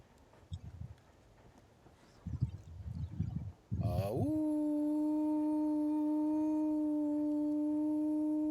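A howl sound effect plays back as a steady, sustained electronic-sounding wail that starts abruptly after a few short bursts of talk and holds evenly to the end.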